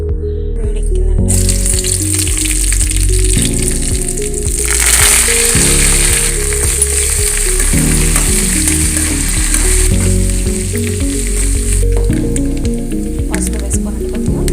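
Tempering seeds and spices sizzle loudly in hot oil, giving a dense, continuous hiss and crackle close by, with a few thumps and stirring sounds underneath.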